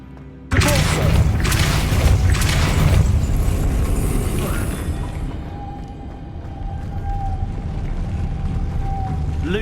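Depulso spell cast in Hogwarts Legacy, a sudden loud magical blast with a booming thud that rings on, then settles into a lingering rumbling hum with a faint tonal whine.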